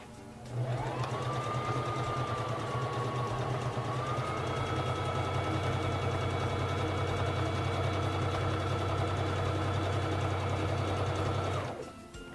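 A Singer Fashion Mate 3333 sewing machine stitches fabric in one continuous run of about eleven seconds, a smooth humming motor whine with fast even needle clatter, close and steady before stopping abruptly.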